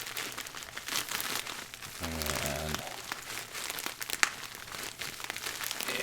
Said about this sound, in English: Just give a little tear there.